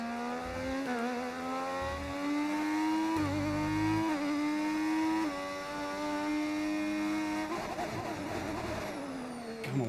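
Pure V6 Formula 1 race car engines in the F1 25 game wail loudly and continuously. Harmonic pitch climbs and dips through gear changes, with several shifts and low rumbles underneath.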